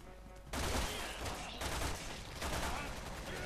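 Gunfire in the video game Resident Evil 6: a dense, sustained burst of rapid shots after a brief quieter lead-in, loud and continuous throughout.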